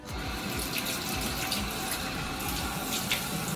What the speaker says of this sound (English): So I'm just going to emulsify that with water and rinse it away.